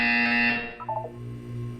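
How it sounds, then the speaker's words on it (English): An electronic buzzer from the video game Portal 2 sounds, a loud, steady harsh tone holding for about half a second before cutting off, followed by a few short chirping blips and a low lingering hum. "When you hear the buzzer, look up at the ceiling"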